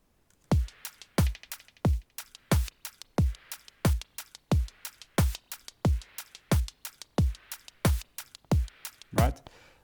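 Electronic drum beat built from simple, unprocessed sample-pack sounds: a steady kick with crisp added hi-hats ticking between hits, repeating evenly and loud in a dry, close mix.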